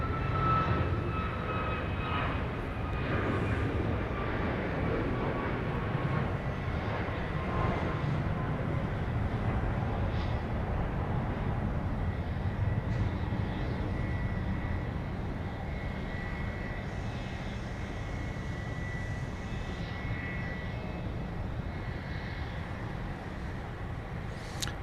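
A fixed-wing airliner lands at Dallas Love Field, its engines a steady, distant broadband roar that slowly shifts in pitch as it rolls along the runway, with no speech over it.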